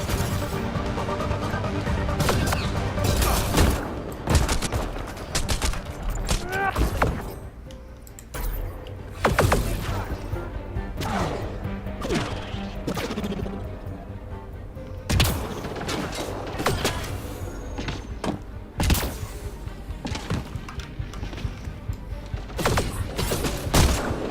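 Gunfire from the video game Mass Effect: rapid volleys of shots and heavy impacts crackle throughout a combat scene, with brief lulls between loud bursts.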